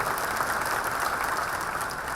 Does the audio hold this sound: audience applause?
yes